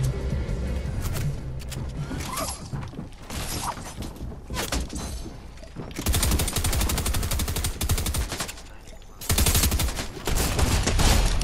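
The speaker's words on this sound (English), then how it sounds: "I hear shooting." Dense bursts of automatic gunfire in a Fortnite Arena duos match, rapid overlapping shots that rattle loud and close, with heavier volleys surging in around the middle and the end.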